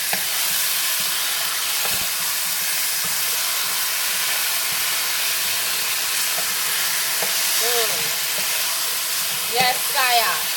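Oxtail meat fries in a hot pot with a loud, continuous sizzle and hiss. Occasional stirring scrapes and clatters sit over it, and a few brief squeaky tones come near the end.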